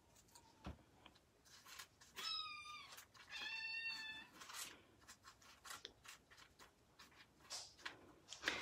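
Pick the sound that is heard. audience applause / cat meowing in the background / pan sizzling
cat meowing in the background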